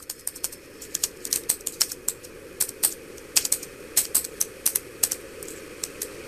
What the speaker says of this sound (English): So now you're going to type in the address